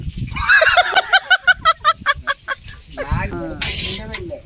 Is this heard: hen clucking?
yes